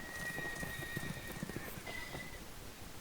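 Horses' hooves clip-clop rapidly down a street as a small group of riders charges past, with a brief whinny, played as a tabletop game sound effect; the hoofbeats are faint and distant against a soft noisy background.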